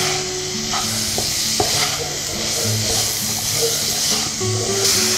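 Vegetables for veg pulao sautéing in a hot pan, a steady loud sizzle with occasional stirring scrapes, close and continuous without speech.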